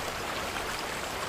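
A river rushes steadily in a film scene, a soft continuous wash of flowing water with no break or change.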